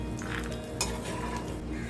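Peanuts fry in oil in a pan with a soft, steady sizzle, along with occasional light stirring and clinks from a utensil.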